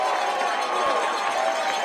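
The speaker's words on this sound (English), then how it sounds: "And a mock cheer from the crowd." Crowd at a Nashua vs Westfield FCBL summer college baseball game lets out a mock cheer, a steady, broad murmur of many voices that holds evenly for about two seconds.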